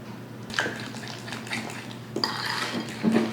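Spoon clinking and scraping against a bowl while deviled egg filling is stirred, a few short metallic taps and scrapes close by with no talking.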